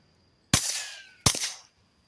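Two sharp, close shots from a suppressed Kel-Tec P17 firing subsonic Remington ammunition into dirt, spaced under a second apart, each with a short, dull tail.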